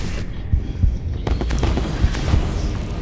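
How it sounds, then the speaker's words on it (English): A smoke bomb goes off in Assassin's Creed Brotherhood multiplayer, giving a few dull thumping bursts over a low, throbbing background that runs throughout. "I don't know why I used my smoke bomb right there."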